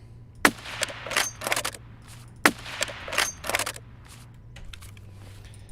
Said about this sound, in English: Now let's compare the sounds of the silencers on Shoreline. So first we start with the SDN silencer.